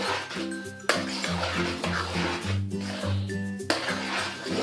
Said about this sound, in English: You have to keep stirring it. Can't make it lump up.